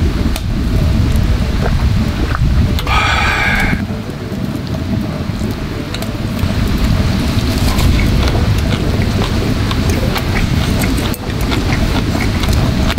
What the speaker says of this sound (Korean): 날씨가 진짜 바람 불고 비 오고 난리 났습니다. 방금은 천둥까지 쳤어요.